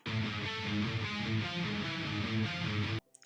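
Djent guitar riff played without palm muting, thickened with sub-octave and upper-octave layers from the Archetype Rabea amp plugin; a dense, sustained run of chugging notes at steady loudness, alone, stopping abruptly before a brief faint tail.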